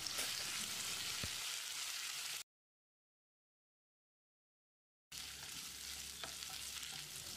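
Small pieces of cauliflower sizzle and crackle steadily as they are stirred in a hot pan, broken by a stretch of total silence midway.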